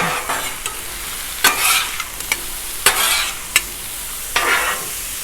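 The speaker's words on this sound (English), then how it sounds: "Let's get this stuff tossed about" Onion and chicken stir fry tossed on a 36-inch Blackstone griddle, with loud sizzling and several sharp scraping spatula strokes at irregular intervals, no speech.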